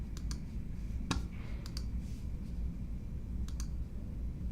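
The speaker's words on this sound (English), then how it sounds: "Basically all I do is click here," Sharp, faint computer mouse clicks come in small clusters over a quiet room hum, a few single and double clicks spread across a few seconds.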